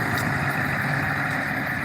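A truck engine idles at a boat launch in Lubec, Maine, with a steady low rumble and a constant broadband hum, unchanging throughout and fairly close.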